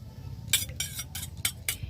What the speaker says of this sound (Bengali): এখানে আমি এক চামচ মতো ভিনেগার দিয়ে দিচ্ছি